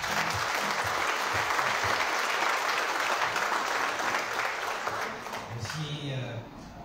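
An audience applauds at a stage event with the press present, a car presentation for a performer. The dense, steady clapping runs loud for several seconds, then thins out as a voice begins near the end.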